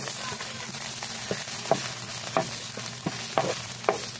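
Garlic and onion sauté in a pan for chicken mechado with green peas, a steady sizzle under repeated sharp utensil scrapes and taps every half second or so, heard close with no clear talk.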